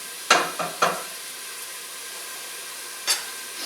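Chicken noodle soup ingredients softening in a pan give a faint, steady sizzle, broken by a few short stirring scrapes near the start and one more later.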